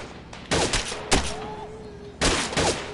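Bursts of WW2-era gunfire in the VR shooting game Gun Club VR: two sharp volleys of rapid shots around the half-second and one-second marks, then another loud burst near the end, with a quiet gap between.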